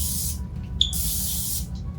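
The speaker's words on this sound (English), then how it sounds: "we're going to spray our hands with Pam" Cooking spray from an aerosol can of Pam is sprayed onto gloved hands in two close, loud hissing bursts, the second longer, with a brief pause between them and no talking.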